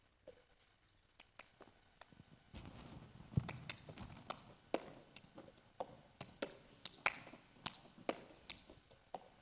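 A solo performer taps and claps a cup song rhythm at a Miss K-State pageant, sharp cup knocks and claps in a steady repeating pattern, faint and a little distant in a roomy space.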